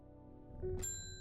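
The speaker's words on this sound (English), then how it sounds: "Let the cat ring the bell" A cat rings a small bell in the game Strange Horticulture, a single bright ding that sustains and fades over a low ambient drone.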